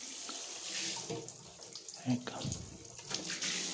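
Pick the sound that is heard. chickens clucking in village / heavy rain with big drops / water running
water running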